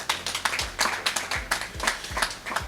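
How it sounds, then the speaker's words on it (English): Scattered, fairly close claps for the athletes at an armed forces beach wrestling event, a small group clapping in an uneven rhythm with sharp individual hits. "Can we give a round of applause for our athletes?"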